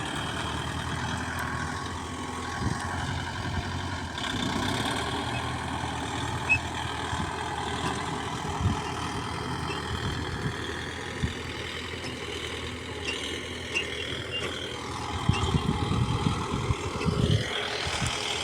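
Kubota MU5502 tractor engine running smoothly while pulling a single cultivator in a field, a steady low diesel drone that stays even and fairly close throughout, with a brief rise in rumble near the end.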